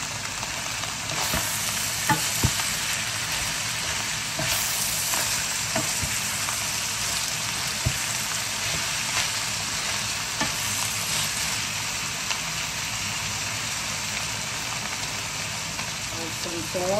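Baguio beans and ground pork sizzle steadily in a hot pan while being stir-fried, with a constant close frying hiss and occasional stirring clatter as someone talks over it.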